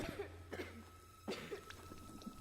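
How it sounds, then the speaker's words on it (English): A short cough with a small, childlike quality sounds twice, once near the start and once around the middle, over a low steady ambient hum from a short atmospheric horror game. "That cough sounds like a little child cough."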